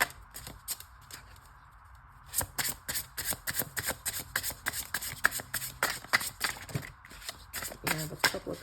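Tarot cards shuffled by hand, a quiet riffle at first and then a rapid run of crisp, close flicking slaps that continues steadily to the end.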